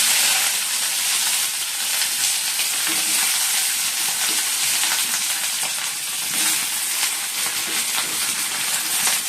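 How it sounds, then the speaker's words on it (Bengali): Okra frying in hot oil in a wok, a dense, even hissing sizzle that stays loud and constant throughout with nobody speaking. "এবার ঢেঁড়সগুলো ভেজে নিচ্ছি।"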